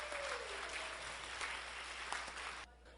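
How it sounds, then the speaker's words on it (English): Steady, faint applause fills the room as a luncheon audience at an annual service awards event claps for five-year award recipients, the sound continuing before dropping off near the end. "Let's have a round of applause for our 5-year recipients."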